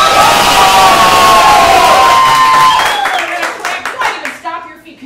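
An improv comedy audience erupts in loud cheering and clapping, a dense roar of voices that holds for a few seconds, then thins into scattered applause and fading shouts.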